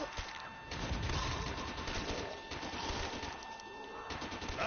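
Gunfire in a zombie video game, a busy run of shots and impacts lasting throughout at steady loudness, with no talking.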